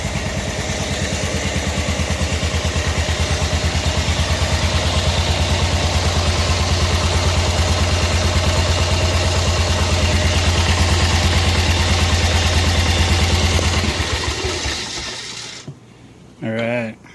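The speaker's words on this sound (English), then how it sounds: "The Barn Find 1988 club car. It lives." Barn-find 1988 Club Car golf cart engine running, a loud steady putter with rhythmic clatter that cuts off abruptly near the end, followed by a brief thump.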